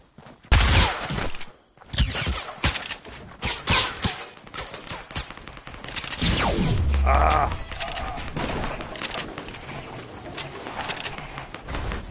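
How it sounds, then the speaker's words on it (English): Rapid bursts of gunfire during the Fortnite Cube live event, loud and close with repeated volleys and a brief lull, continuing steadily throughout. "Where are they shooting me from?"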